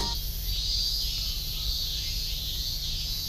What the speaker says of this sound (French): Voilà, les cigales grillons japonaises. Elles font un bruit un peu chelou.